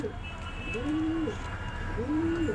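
Paired pigeons coo softly and repeatedly, a few rising-falling rolling calls in a row, close by, over a low background hum.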